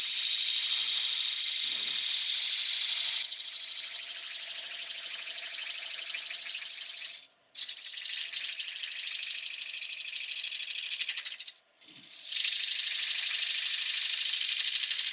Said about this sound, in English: I'm still using a 1/2 inch bowl gouge